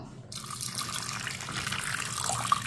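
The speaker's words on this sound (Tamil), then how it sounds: "இதில் கொஞ்சம் தண்ணி ஊற்றிக்கிடுவோம்" Water poured into a pressure cooker holding about 50 grams of butter beans, a steady splashing stream running close and continuous after a brief quiet start, with no talk over it.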